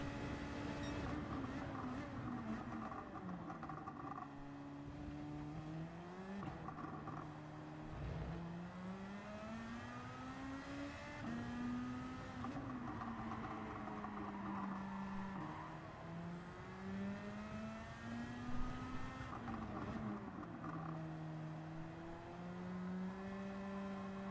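Car engine in the Gran Turismo 7 racing game revving hard and repeatedly climbing in pitch through gear changes, a steady loud whine across the whole stretch with occasional drops as gears shift.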